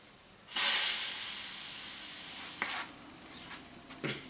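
A Parkside pneumatic pressure sprayer lets out a loud, steady hiss of water spray that starts abruptly and runs for about two seconds, then eases off, followed by a few short, fainter spurts.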